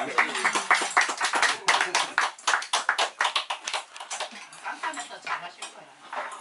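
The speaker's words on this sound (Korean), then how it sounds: "그래서 박수 한번 주시죠." A small gathering of cast members claps after a stage performance, distinct individual claps in an uneven, fairly close patter that fades toward the end, with some voices mixed in.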